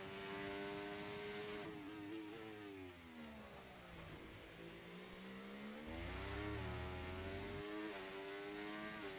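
A race car in a racing video game spins its wheels exiting a corner at Spa. The loud engine note holds high, sags and then climbs again as the revs rise and fall, with no one talking.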